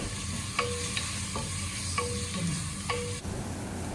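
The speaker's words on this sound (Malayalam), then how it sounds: "നന്നായിട്ടൊന്ന് വഴറ്റിയെടുക്കുന്നുണ്ട്" Onions with ginger-garlic paste stirred in a cooking pot, a steady soft sizzle with a few scraping spoon strokes, close by, ending in a quieter hiss.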